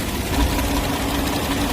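A used Hyundai Grandeur HG sedan engine idles in a steady, low, even hum with a faint mechanical tick, close and continuous for a short stretch with no talk.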